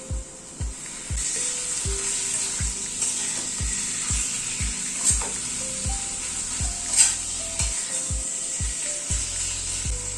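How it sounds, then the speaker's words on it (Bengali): Chicken frying in a pan, steady sizzle underneath regular rhythmic knocks and scrapes of a utensil against the pan; no talking. "এবার চিকেনটাকে অ্যাড করে দিচ্ছি"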